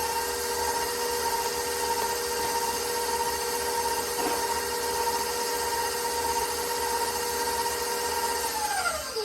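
Electric mixer mixing chocolate peanut butter chip cookie dough, a steady close motor whine that holds evenly throughout and winds down at the very end.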